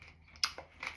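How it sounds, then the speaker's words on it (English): Someone crunches on passion fruit seeds while eating, a few faint, close, sharp crackles spaced within a second against quiet background. "You might hear me crunching on the seeds"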